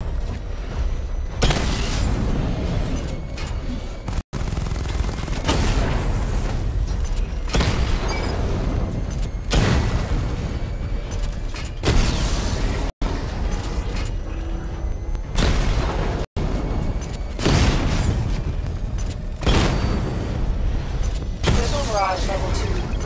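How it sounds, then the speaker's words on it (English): A missile barrage from the Batmobile in Batman: Arkham Knight sets off heavy, repeated booming explosions in dense bursts, loud and close, with brief gaps of quiet between volleys and a game voice over them. "Charge the missile barrage to level 2 to destroy up to 4 targets at once"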